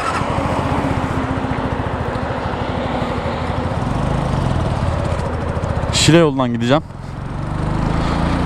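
A fuel-injected Superlight 125 motorcycle, still in its break-in period, runs with a steady, buzzy engine note while someone talks over it, with a brief sweeping rise and fall in pitch partway through.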